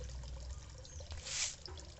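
Flowing water runs into a bucket used for farming tilapia fish, a steady low trickle and splash with a brief brighter gush midway, close and fairly quiet, with no voices.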